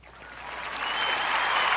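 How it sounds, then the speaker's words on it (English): Applause from an audience swells from quiet into steady, dense clapping that keeps building to a sustained level. "Let's have a nice round of applause for Kimberly Dixon."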